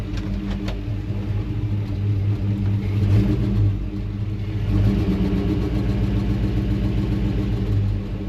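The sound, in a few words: Ford F100 truck engine while driving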